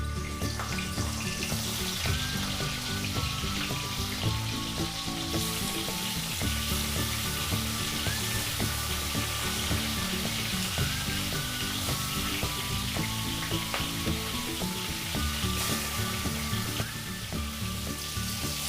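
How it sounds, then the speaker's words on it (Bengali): Fish head frying in hot oil in a pan, a steady, dense sizzle with crackles and occasional stirring scrapes running throughout at close range. "তেল গরম হয়ে গেছে, মাছের মুড়ো ভেজে নেব।"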